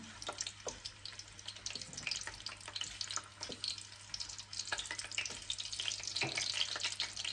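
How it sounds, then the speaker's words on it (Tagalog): Chopped garlic sizzles and crackles in hot oil in a pan while squid adobo is being cooked, a steady close frying hiss dotted with sharp pops throughout. "At habang nagpapainit tayo ng bawang"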